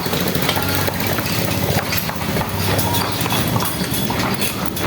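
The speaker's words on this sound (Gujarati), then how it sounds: "તો ઘોડા ગાડી છે" Steady clip-clop of hooves from a horse-drawn cart in Palitana, continuous over a busy background with an idling engine nearby.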